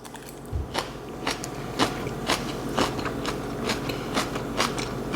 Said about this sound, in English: So I'm gonna try some of the eggs and spinach with a little bit of the kimchi.